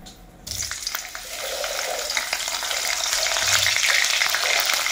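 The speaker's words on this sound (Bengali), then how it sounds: "ফুলকপিগুলো এবারে দিয়ে দিচ্ছি।" Cauliflower florets tipped into a pan of frying khichdi set off a loud, steady sizzle that swells and holds, with faint stirring scrapes and no voices.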